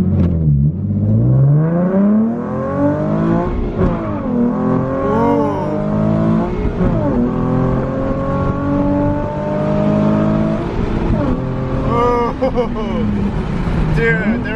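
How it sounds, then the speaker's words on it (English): Nissan 370Z pulling away hard from a stop sign in first gear, its engine revving up through rising sweeps and gear changes, loud and close, with people talking over it. "Just take off from this stop sign here and first."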